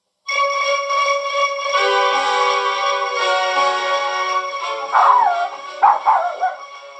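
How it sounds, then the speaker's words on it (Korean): A large hunting dog yelps and whines in high, strained barks, continuous for several seconds, close and fairly loud, with no voices. "커다란 사냥개가 짖으면서 달려오는 것을 보고는"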